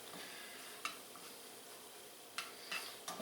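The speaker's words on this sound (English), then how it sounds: "You can probably hear it sizzling here" Steady, continuous sizzling of pulled pork frying in a pan, with a few sharp scraping clinks from a utensil stirring partway through.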